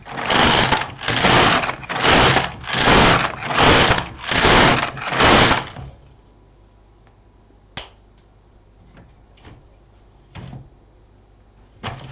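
An LK 150 knitting machine knits a leaf-pattern scarf. Seven evenly spaced, swishing carriage passes give a steady rhythm, followed by sparse, faint mechanical clicks in near silence.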